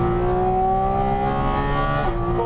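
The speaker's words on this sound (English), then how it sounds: "It snorts through those throttle bodies like you wouldn't believe" A 2022 Porsche 718 Cayman GT4 RS engine snorting hard through its throttle bodies, a loud sustained rising howl with layered harmonics that shifts pitch near the end.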